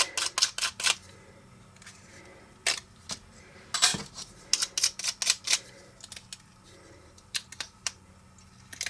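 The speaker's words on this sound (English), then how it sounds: "if I just run my die brush over that a little bit, it'll go ahead and loosen those up" A die brush is scrubbed over a metal cutting die to pop out small cut card-stock pieces, giving a string of short, crisp brushing and clicking bursts, some clustered and rapid, near and fairly loud with no talking.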